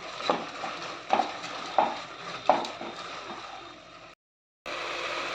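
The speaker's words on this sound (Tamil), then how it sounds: "உப்பு போட்டு வதக்கினா தக்காளி வேகமாக வதங்கிடும்" Chopped tomatoes with salt are sautéed in a pan for wedding-style sambar, a spoon scraping and stirring in four evenly spaced strokes over a soft sizzle, close by, before a brief silent gap and the frying hiss resuming.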